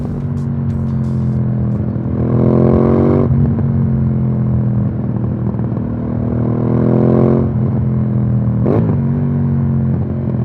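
An Aprilia Dorsoduro 1200 motorcycle being ridden, its loud, close engine droning steadily with two swells of revving acceleration and rumbling, clattery exhaust throughout.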